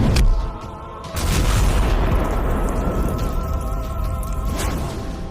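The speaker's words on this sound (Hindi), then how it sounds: "तुंग तुंग सहूर कार के पास आ चुका है, और फिर वो कार पर एक जोरदार लात मारता है और उसे दूर फेंक देता है, जिसके कारण कार में आग लग जाती है।" A cartoon car is kicked hard and bursts into flames, heard as a loud boom at the start followed by a sustained roaring, crackling fire rumble that stays loud throughout.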